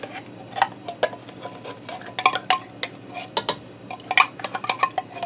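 Canned cream of celery soup goes into a Ninja Foodi pot for tuna noodle casserole, with irregular metallic clinks, taps and scraping of a utensil against the can and pot, close and moderately loud without talk.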